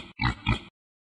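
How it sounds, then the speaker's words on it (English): A pig gives two short, close grunting oinks in quick succession, then falls silent. "My mom is a pig."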